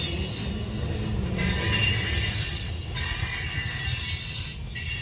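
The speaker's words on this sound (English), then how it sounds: "On this northbound loaded coal drag here in Fremont, Nebraska." Northbound loaded coal freight train passing in Fremont, Nebraska, its cars rolling by close with a continuous rumble and high, ringing wheel squeal that swells and fades, no voices.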